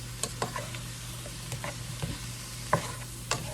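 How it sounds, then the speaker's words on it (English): Onions sauteing in a pot for a broccoli and cheese chowder, a soft, steady sizzle with a low hum beneath and sharp clicks and scrapes of a spoon stirring every half second or so, close, no talking. "I'll saute these down with these onions."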